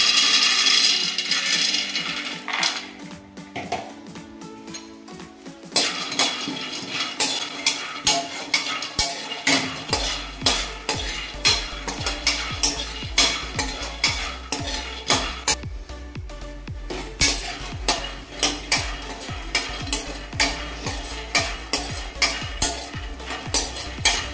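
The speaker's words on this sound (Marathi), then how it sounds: "आता आपल्याला शेंगदाणे भाजून घ्यायचे आहेत" A quarter kilo each of peanuts and coconut are dry-roasted in a pan while being stirred. Steady, rhythmic scraping strokes repeat throughout, and a soft rattling crackle of nuts moving over hot metal runs underneath.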